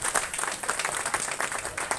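An audience applauds at a Ganga puja ceremony for the overflowing Jawahar Lake in Nipani, a dense, steady round of many hands clapping together for the whole stretch, moderately loud, without speech on top.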